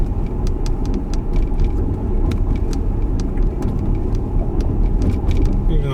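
A Tesla on Full Self-Driving beta rolls along near an airport, its interior filled with a steady low road rumble and tyre noise, plus light ticking clicks throughout and no talking.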